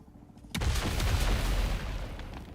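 Rocket explosions go off in the video game Dune Awakening. After a quiet half second, a sudden heavy boom hits, followed by a dense, rumbling barrage of blasts that slowly fades.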